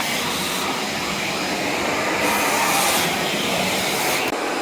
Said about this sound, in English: it is actually easy enough to hold the Hoover in one hand and the wand in the other to wander around doing the skirting boards